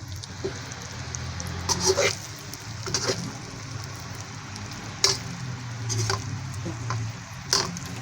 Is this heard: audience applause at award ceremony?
no